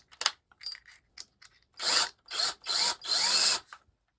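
Power drill pre-drilling pilot holes into wood for a bed frame: a few short clicks and taps, then four loud, close whirring bursts of about half a second each, separated by brief pauses.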